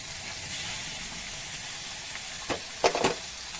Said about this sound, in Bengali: এবার আমি মাছগুলো ভেজে নিচ্ছি।